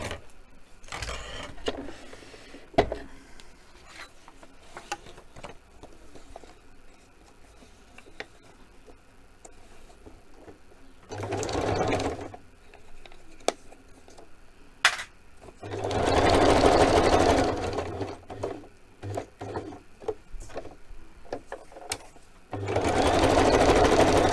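Close sewing machine stitching a craft project: short mechanical whirring bursts start and stop several times, with two longer loud runs, separated by quieter clicks and handling noises.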